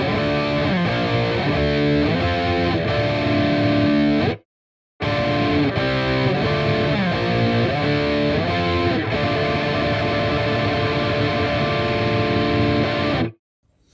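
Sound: electric guitar power chords with distortion

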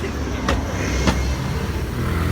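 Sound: bus passing by

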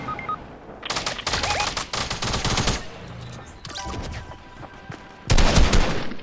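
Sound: gunfire in a video game, enemy shooting at player

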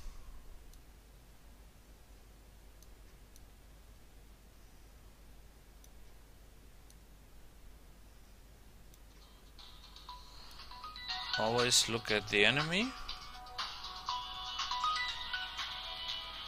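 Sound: cell phone ringtone

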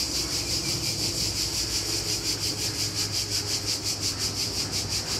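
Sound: insects singing by the river

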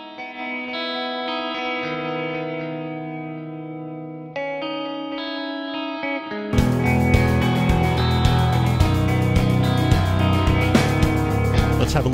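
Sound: melody guitar mixed with iZotope Alloy 2, compressed

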